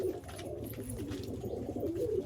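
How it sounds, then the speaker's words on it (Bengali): Malwai pigeons offered for sale coo softly and repeatedly at close range in a low, rolling murmur with no voices. "শাক সবুজ মালবাহী পায়রা দেখছেন কত সুন্দর"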